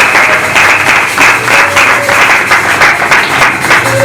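A church congregation at a Sunday service applauds together, a dense, loud, continuous wash of many hands clapping with a slightly pulsing rhythm, close and filling the whole moment without speech.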